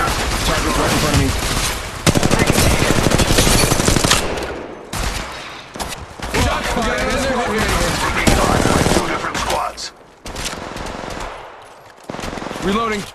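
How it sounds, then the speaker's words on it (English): Rapid automatic gunfire in Apex Legends Mobile, loud bursts of machine-gun fire in several volleys broken by brief pauses, with game voice callouts mixed in. "Yeah, I'm getting shot at. I'm taking fire."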